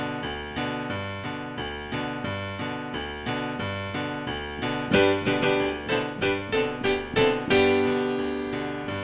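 Steady gospel piano alternating a low bass note with a chord in an even rhythm, from "When the Saints Go Marching In", then livelier repeated chords toward the end, clear and close.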